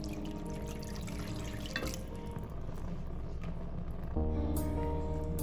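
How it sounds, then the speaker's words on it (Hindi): Milk is poured into a pan of cooked flour for a creamy white sauce, giving a soft, continuous trickling and splashing over a steady kitchen background hum. "अभी इसमें मिल्क डालेंगे।"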